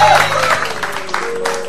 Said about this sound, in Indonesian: Tepuk tangan dulu buat Egy John.